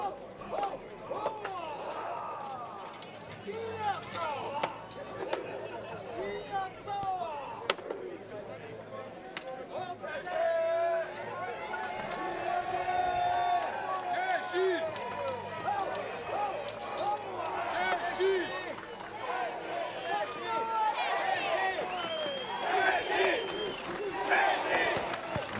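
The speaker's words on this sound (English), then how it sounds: "haka of the All Blacks." New Zealand All Blacks team performing a haka at a Battle of the Nations medieval combat event, rhythmic chanted shouts nearly drowned by a large roaring crowd that swells louder toward the end.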